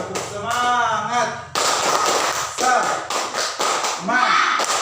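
A primary school class doing rhythmic spirit clapping, sharp bursts of many hands clapping in short patterned groups, mixed with children's voices chanting and a teacher speaking between the claps.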